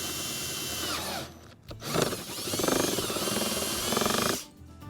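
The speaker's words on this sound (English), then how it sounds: "what we're going to do now is drill a hole right here" Power drill boring a hole into a plastic van fuel tank: a sustained whining, grinding burst that starts, pauses briefly, then runs steadily for about three seconds before cutting off, close and loud with no talk.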